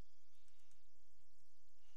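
Sheep bleating in a video game, a short burst of animal calls over constant hissy game ambience, fairly faint and brief.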